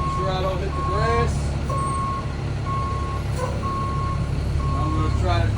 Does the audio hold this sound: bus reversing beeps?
yes